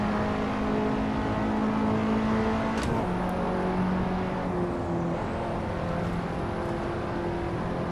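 A KTM X-Bow R race car engine on a track in Assetto Corsa, a loud continuous whining drone near the listener, holding pitch before a sharp drop around a shift, then steadying again.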